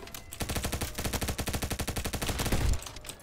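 Rapid automatic fire from a TAR-21 rifle in the shooter game Bad Business, a loud continuous stream of evenly spaced shots lasting about three seconds, close and dominant.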